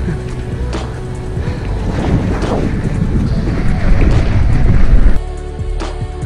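Wind rushes over the microphone during a bike ride through Schoorl and Bergen, a loud, gusty buffeting roar that swells and then drops off abruptly near the end.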